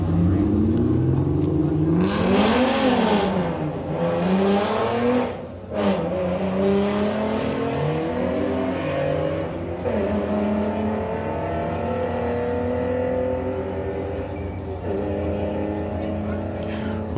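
VW Golf drag race cars accelerating hard down a strip at a national VW drag racing final, engines revving and climbing through gears in loud sustained sweeps, with a commentator talking over the noise.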